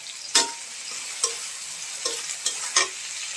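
Leafy greens sizzle steadily in hot oil with salt, with a few sharp scrapes and knocks of stirring at irregular moments.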